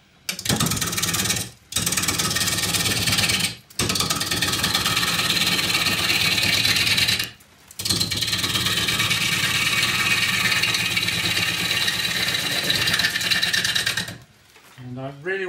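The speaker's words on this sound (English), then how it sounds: "I'm going to use a half inch spindle gouge to rough this down" Wood lathe roughing down a box elder bowl blank with a half-inch spindle gouge: loud, steady broadband cutting noise in long bursts broken by a few brief pauses, ending with a quieter tail.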